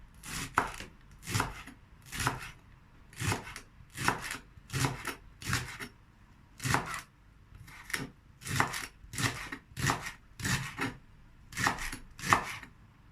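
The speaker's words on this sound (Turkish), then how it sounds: "pırasamı ortadan ikiye böldüm. Pırasalarımı da doğrayacağım." A knife chops halved leeks steadily on a cutting board, sharp regular strokes in quick bursts with brief pauses, close and clear with no talking.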